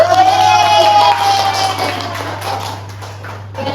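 Applause from a classroom audience after a group presentation, a dense, steady wash of clapping with some crowd noise, holding for nearly four seconds before thinning slightly toward the end.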